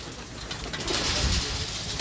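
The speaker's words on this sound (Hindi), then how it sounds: "ये गुड सिल्क कबूतर है" Good Silk pigeons coo softly amid a loft of champion racing birds, a low, murmuring call rising faintly over light background rustle and noise, with no talking.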